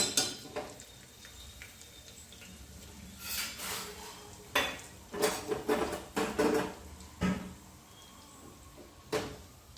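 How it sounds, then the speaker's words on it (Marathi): Ginger-garlic paste sautéed in a pan for mutton curry: a low sizzle underneath repeated clanks and scrapes of a metal spoon against the pan, irregular bursts of stirring, close by and without talking. "आलं लसणातील कच्चेपणा दूर होईपर्यंत आपण हे थोडंसं परतून घेऊया"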